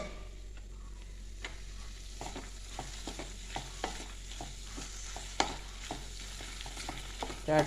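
A boiled tuber is stirred into a pan of onion and tomato frying in oil, with steady sizzling under scattered scraping and clinking spoon strokes, close and fairly quiet, without talk.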